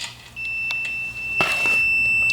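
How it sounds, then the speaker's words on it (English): A Snapper rear-engine riding mower's electric start switch, turned fully right, sounds a steady high-pitched electronic beep. It holds as one continuous tone for about two seconds, with a few light clicks and handling noises around it. "whenever I turn the switch on all the way to the right, I should actually hear a beep"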